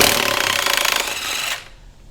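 An Earthquake XT impact wrench hammering on rusty front suspension bolts of an S600, a loud, close, rapid rattling burst lasting about a second and a half before cutting off.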